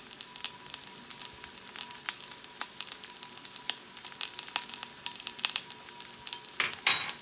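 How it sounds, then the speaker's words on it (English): Lard frying hard in a pan with chiles and onions, a steady close crackle broken by dense, sharp pops and splatters throughout, briefly swelling louder near the end. "it jumps, you know, so be careful, it splatters. But that's what lard does"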